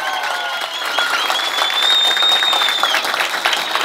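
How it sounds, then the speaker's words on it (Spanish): Sustained applause from a campaign closing-rally audience as a speaker is welcomed, dense and loud throughout with cheering voices and a whistle rising over the clapping. "Fuertes aplausos."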